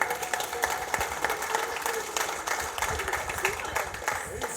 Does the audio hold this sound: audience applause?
yes